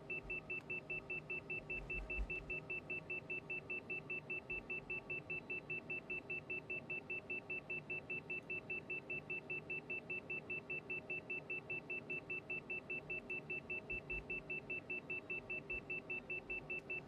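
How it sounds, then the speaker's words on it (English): A small electronic device in a light aircraft cockpit on a flight from Des Moines to Chicago beeps steadily in a fast, regular series of short tones, continuous and thin over a low engine drone. "I just have a complete inability to keep this thing from beeping."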